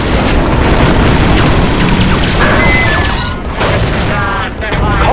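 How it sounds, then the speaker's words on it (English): An explosive charge detonates in a combat video game, producing a loud, sustained roaring blast with heavy rumbling debris that stays dense for several seconds, while voices talk over it. "The charge is set and ready to detonate"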